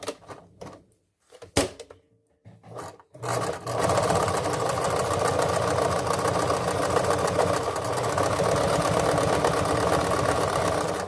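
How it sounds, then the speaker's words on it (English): A sewing machine rattles through a stitch after a few short starts and then runs continuously, with a steady, close mechanical whir and rapid needle clatter throughout. "Do I need to talk louder? Because this machine raggedy."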